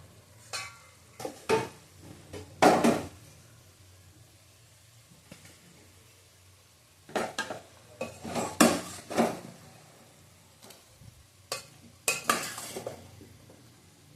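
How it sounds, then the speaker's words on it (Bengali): Fried potato and jackfruit go into a cooking pot, heard as bursts of clattering utensil scrapes and metal knocks over a faint sizzle, separated by quieter gaps, no speech. "আলুটা আর ইঁচড়টা দিয়ে দেবো।"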